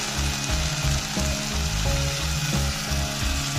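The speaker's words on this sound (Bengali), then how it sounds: "আমি এখানে 2 কাপের মতো জল দিয়ে দিলাম" Water poured into a pan of fried spice paste for an ilish fish bhuna, giving a loud, churning sizzle with a rhythmic low pulsing throughout and no talk.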